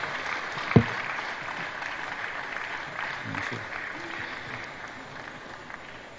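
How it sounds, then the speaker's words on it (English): Applause from a conference audience at a government management retreat, welcoming the Honorable Minister: a steady, diffuse wash of clapping throughout, with one sharp knock near the start. "Please, let's keep the applause going for the Honorable Minister."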